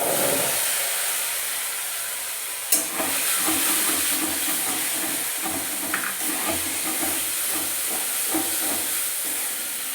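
Ground paste of ginger, whole garam masala, chana dal and tomato frying in a pan for a vegetarian jackfruit curry, giving a steady close hiss and sizzle throughout, with a sharp utensil scrape and a few clinks of stirring.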